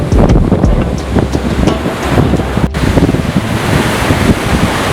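Ocean waves wash over rocks along the Jeju coastline, a steady loud surf roar with repeated splashing surges and heavy wind buffeting the microphone throughout.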